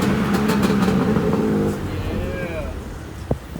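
A BMW G80 M3 pulls away with its engine droning loudly and close, then eases into a quieter downshift with rising and falling revs and a brief thump near the end, while people talk over it.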